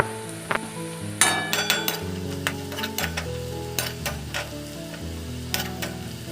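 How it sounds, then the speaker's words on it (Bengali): Chopped onions frying in a kadai until golden-brown for a chicken kosha, with a continuous sizzle, occasional utensil clinks and scraping, and soft background music underneath. "আমি আর একটু ভেজে নিয়ে কিন্তু বেরেস্তাটা নামিয়ে নেবো কড়ার থেকে"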